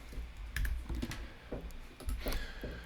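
Someone types on a computer keyboard's number keys, giving a scattered series of light clicks over a noisy room background.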